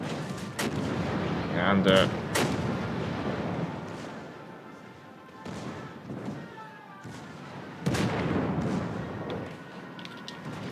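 Heavy naval guns boom in a World of Warships: Legends battle, several deep blasts spaced a few seconds apart with rumbling tails, loud and close, with a brief word spoken over the action.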